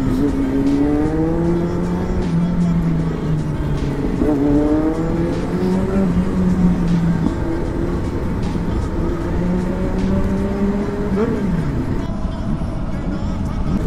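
Kawasaki Z900 superbike with its engine revving loudly and continuously, its pitch rising and falling through several throttle blips, with voices talking over it.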